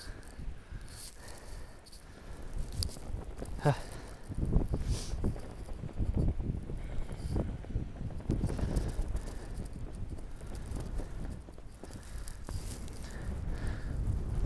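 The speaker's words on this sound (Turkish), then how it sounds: "Zaten hava şu an çok rüzgarlı." Strong wind blowing outdoors, a steady, rough rush that buffets the microphone throughout, with gusts swelling and easing but never dying away.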